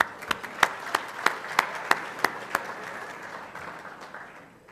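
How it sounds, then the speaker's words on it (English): A club meeting audience claps for Charlie in a short burst of applause, a few distinct loud claps standing out before the clapping thins and fades away. "a round of applause for Charlie"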